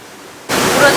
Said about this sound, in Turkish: Burası bildiğin kara şelale falan olsaymış.